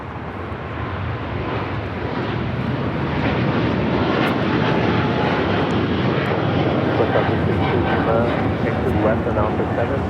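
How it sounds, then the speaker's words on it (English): A Philippine Airlines Boeing 777-300ER bound for Manila takes off from LAX, its jet engines producing a loud, steady, broadband roar that holds for the whole stretch, with talk faintly in the background. "This is Philippine Airlines 113 taking off to Manila on the 777-300ER."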